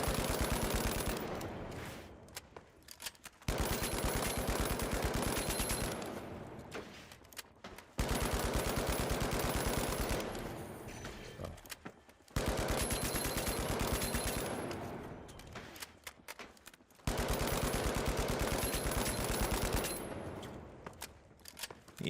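Automatic gunfire from the shooter game The Finals during a ranked match, rapid sustained bursts of shots each lasting a few seconds and separated by short gaps, loud and continuous across the clip.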